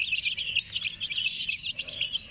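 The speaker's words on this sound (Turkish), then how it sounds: "Light Brahma ve Stex yavrularımız artık aşağıdaki evrimini tamamladı." Light Brahma and Sussex chicks chirp in a rapid, continuous chorus of high peeping, close and steady, without any talk.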